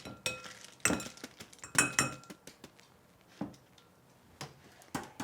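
Pumpkin seeds tipped and stirred into a glass or stainless steel bowl, with a close run of uneven clinks and rattles, louder at the start then sparser and fainter, with no talk.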